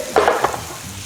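Chicken cooking in a pan with whole spices such as cinnamon, star anise, cloves and cardamom, giving a brief close sizzle and stirring scrape in two short bursts, fading to a low background hiss.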